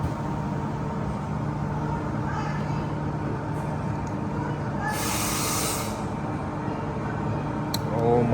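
A train idles at Midland Station, its steady low engine hum and hiss filling the platform, with a brief burst of air hiss midway and a faint click near the end.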